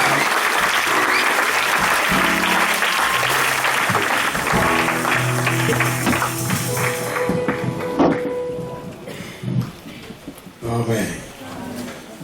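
A church congregation gives loud, sustained applause to the Lord, with many hands clapping and voices mixed in before the clapping thins to scattered claps and talk.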